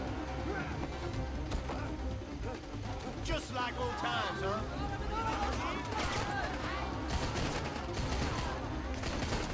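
Gunfire in Rambo The Video Game: dense, rapid bursts of shots and crashes running continuously, loud and close, with someone talking over the action.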